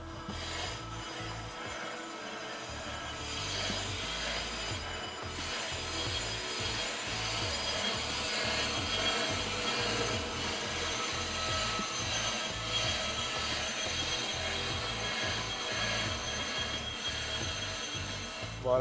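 A woodworking machine feeding stock through in two passes at once, running as a steady dense mechanical grind and rasp with rapid rhythmic ticking, loud and continuous throughout with no voices.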